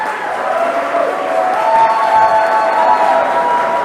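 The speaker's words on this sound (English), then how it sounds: "So let's give a round of applause to our House." Crowd at a Florida political gathering applauding and cheering after a call to honor the state House, a steady dense roar of clapping and voices that swells slightly and holds throughout.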